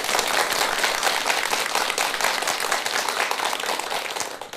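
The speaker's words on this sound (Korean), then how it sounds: "우리 대덕 스님들께 큰 박수 한번 주시기 바랍니다." An audience at a Buddhist dharma talk gives the monks a big round of applause, a dense, sustained roar of many hands clapping at once, loud and steady before tapering slightly at the end.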